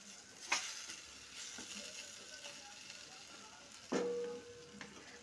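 Crushed garlic frying in oil in a pan, a soft steady sizzle with occasional stirring clatters, including a sharper burst near the end, with no voices.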